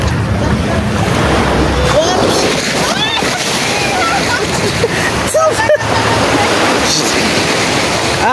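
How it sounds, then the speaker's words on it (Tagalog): A wave hits a small boat on clear seawater, with continuous sloshing and splashing and the hull taking spray, while people talk over the water noise. "Nasalubong ko yung alon."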